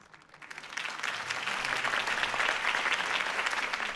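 Crowd applause rising quickly and holding as sustained, dense clapping from a rally audience after a campaign speech for Harvey Dent in the Batman Telltale Series game, with no talk over it.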